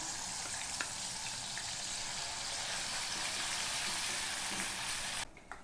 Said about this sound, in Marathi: त्यामध्ये हा मिक्सरमध्ये जो बारीक केलेला मसाला आहे ते आपण तेलामध्ये टाकणार आहोत।